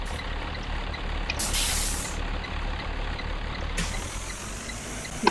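Air brakes of a school bus in a video game release at a stop, two loud hissing bursts of air over a steady low engine rumble, the second hiss lingering to the end.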